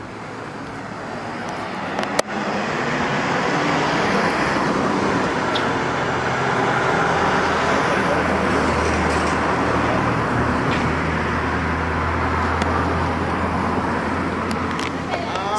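Cars drive past on a road in Barbados, a steady, close traffic rumble with engine drone, and one sharp knock partway through.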